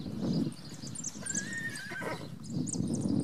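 A criollo stallion gives a clear, drawn-out whinny in the middle of the clip, with hoof clip-clop and a steady outdoor background noise that is fairly close throughout.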